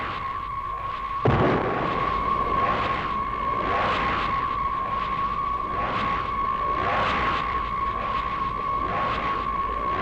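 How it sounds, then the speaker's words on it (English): Cannons bombard the giant robot King Joe in an Ultraseven battle scene, a series of booming blasts repeating every second or so over a steady electronic tone, loud and continuous for about ten seconds. "King Joe walks onward while being bombarded by cannons"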